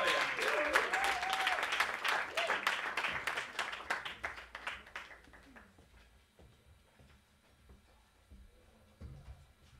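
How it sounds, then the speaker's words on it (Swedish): A concert audience gives warm applause with dense clapping and a few whistles. It gradually thins out into scattered claps and fades to near quiet. "En varm applåd!"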